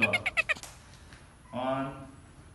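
A cat meows, a clear drawn-out mew in the middle, following a rapid series of short sounds at the start, fairly close and moderately loud.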